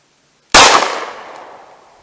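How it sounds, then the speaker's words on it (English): A single sharp, loud shot from a Canik TP9SFx 9mm pistol firing jacketed hollow point ammunition cracks close by, then its echo fades over about a second and a half. "So we'll do 2 shots and see what the average is on it. So here we go, out of the Canik TP9SFx."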